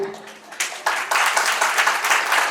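Audience applause at a corporate rewards and recognition event: a crowd's clapping swells in after a faint start, then holds as a dense, loud, continuous patter.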